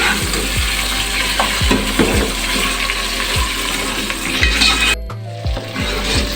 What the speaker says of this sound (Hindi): और चिकन के साथ प्याज को अच्छे से मिक्स करना है। और तब तक फ्राई करना है जब तक कि चिकन का कलर चेंज ना हो जाए।